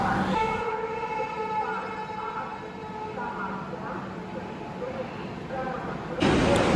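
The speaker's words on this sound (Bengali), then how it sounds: "ঠিক কারেক্ট টাইমে ট্রেন এসে পৌঁছলো উত্তরপ্রদেশের মির্জাপুর স্টেশনে।" The Brahmaputra Mail passenger train stands at Mirzapur station in Uttar Pradesh, a steady loud rumble and hum of the train with a sustained tonal drone throughout and a sharp change near the end.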